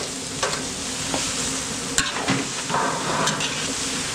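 Ground meat hits a large pan of sautéing garlic and onion for a big batch of picadillo, giving a loud sizzle with sharp stirring scrapes and clanks, no talking.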